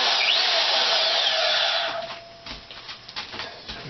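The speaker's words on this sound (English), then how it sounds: "I got my Swag table hooked up to my Dewalt saw" A Dewalt portable bandsaw mounted on a table whirs loudly at full speed for about two seconds, then cuts off at the foot switch and winds down into quiet clicks and handling noises.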